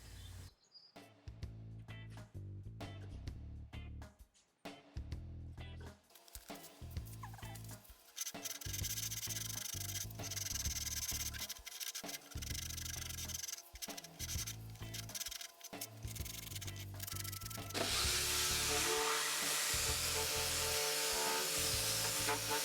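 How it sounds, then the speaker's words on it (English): A hand scraper strips old finish from the underside of an old Art Deco wooden nightstand panel in rhythmic, rasping strokes with short pauses, growing denser and louder toward the end. "I'm using a scraper to get most of it off"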